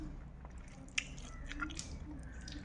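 Someone chews roti flatbread up close, with soft bites, squishy chewing and a small crunchy snap amid quiet room noise.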